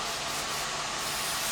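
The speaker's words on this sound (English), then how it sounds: "this is a flexible hold hairspray by Amika" Amika flexible hold hairspray is sprayed on a short layered haircut, giving one brief, continuous, close airy hiss with no talking.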